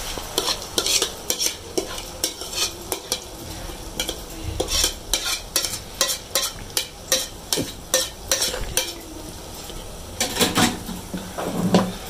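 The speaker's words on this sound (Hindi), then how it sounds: "देखिए मसाला भून चुका है, अब हम दाल डालेंगे।" Moong dal going into roasted masala in a pan and stirred hard, a quick run of scraping and clattering spoon strokes over a low sizzle, close and fairly loud, no talking.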